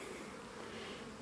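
Bees buzzing steadily at a beehive, a dense continuous drone close by with no voices.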